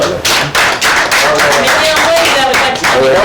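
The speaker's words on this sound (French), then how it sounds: "Mais quand même, on l'applaudit." Loud clapping from an audience on a TV programme comes in uneven bursts, mixed with talking voices and what sounds like background music.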